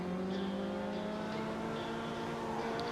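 An Invetero Coquette D5 car engine in the video game GTA Online hums and revs steadily in a sustained tonal drone, faint in level but continuous, with no talk over it.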